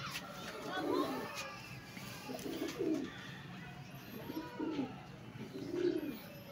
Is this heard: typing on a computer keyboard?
no